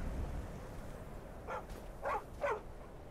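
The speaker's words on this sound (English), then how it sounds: "That's a dog." A dog in Skyrim VR gives three short barks, moderately close, over a quiet background with no talk.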